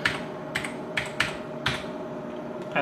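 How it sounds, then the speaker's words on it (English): Computer keyboard typing on a Linux machine while working at the command line: a handful of separate bursts of keystrokes spread over about three seconds, fairly close and moderate in level, with no talking. "if you're wondering why I'm typing all this in to get it in,"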